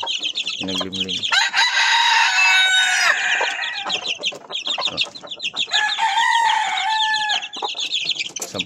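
Loud, busy clucking from a broody hen and her ten newly hatched chicks, with a brief low call near the start and dense overlapping chirps throughout, close by.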